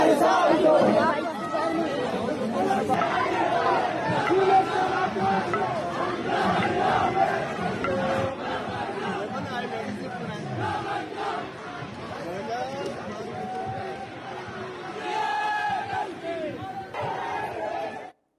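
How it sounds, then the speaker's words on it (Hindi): A street protest crowd in Pakistan-occupied Kashmir, led by a small child, chants slogans in loud, rhythmic waves of many voices, with crowd chatter running continuously for the whole stretch. "सुनिए, देखिए वो नारे लग रहे हैं"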